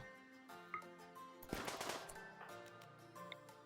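Gunfire from colonist pawns shooting in RimWorld, a quiet scatter of sharp rapid shots in short bursts, with a denser volley in the middle, over faint background game sound.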